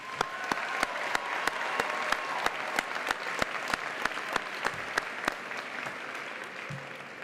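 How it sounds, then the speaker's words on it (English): Sustained audience applause at the Eastmoor Academy 2024 high school graduation ceremony, a steady wash of many hands clapping with sharper individual claps standing out, continuing evenly throughout. "Please, let's give them a round of applause."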